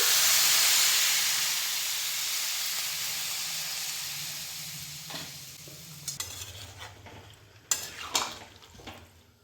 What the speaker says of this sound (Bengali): সব কিছু সবজি ভালো করে কষিয়ে নিয়েছি, এবার জল দিয়ে দিচ্ছি।